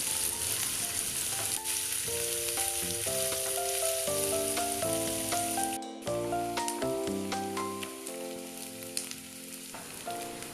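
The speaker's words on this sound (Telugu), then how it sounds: "ఉల్లిపాయలు దోరగా ఫ్రై చేసుకోవాలి." Chopped onions, green chillies and curry leaves fry in hot oil, a steady bright sizzle running beneath loud melodic background music that dominates, with no talking.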